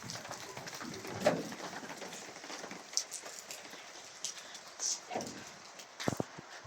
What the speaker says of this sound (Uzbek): Mana shu 50 metrdan keyin shunaqangi uryapti yomg'ir.